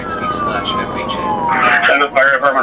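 A police car's siren blares close and loud after the squad car rolled over several times, a long falling wail that breaks into rapid warbling yelps.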